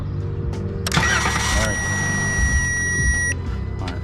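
A Dodge Caravan with a suspected fuel pump failure cranks steadily for a couple of seconds and does not start, with an electronic tone sounding throughout. It is close and fairly loud, with speech and broadband noise around it.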